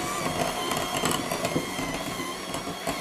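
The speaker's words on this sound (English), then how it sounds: "I'm going to take my mixer and mix it up again" An electric hand mixer whirs steadily close by while it blends a crumbly cheesy herb cracker dough, giving a continuous buzzing motor hum with slight wavering as the beaters work.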